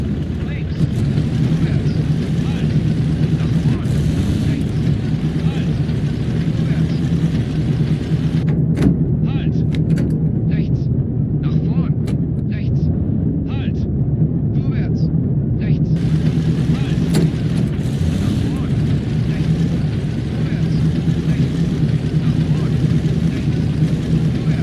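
A tank moving in the Tank Squad video game, its engine giving off a steady low rumble and drone throughout, with a narrator talking over it.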